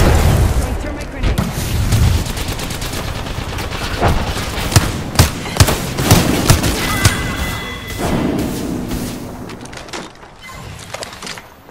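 Grenade explosions and rapid gunfire in the video game Apex Legends: a dense, loud barrage of sharp shots with several heavy booms clustered midway, then quieter scattered bursts.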